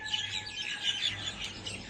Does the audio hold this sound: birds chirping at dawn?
yes